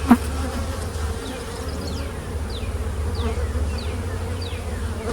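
Italian honey bees buzz steadily around a hive, a dense continuous hum with individual bees droning past up close.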